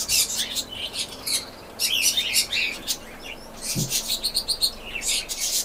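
A pet bird chirps in bright, rapid bursts of tweets close by, pausing between calls, with a brief low thump partway through.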